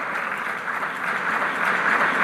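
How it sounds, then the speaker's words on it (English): Enthusiastic clapping from young people in a forum audience, a loud dense burst of applause that swells slightly toward the end. "Can I hear you clap?"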